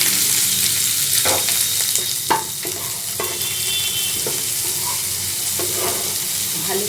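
Soaked chana dal is stirred into a frying pan while cooking kanika bhog, giving a loud, steady sizzle broken by occasional sharp spatula scrapes and taps.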